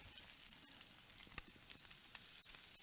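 A rib eye steak sizzles on a Norfolk Grills Infinity barbecue, giving a soft, continuous crackling hiss with a few sharper pops, faint and without speech.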